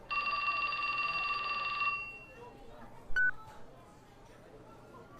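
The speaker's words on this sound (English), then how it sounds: "The phone rang." Telephone ringing in the video game 428: Shibuya Scramble, a loud electronic trill lasting about two seconds, then a short beep and quiet background.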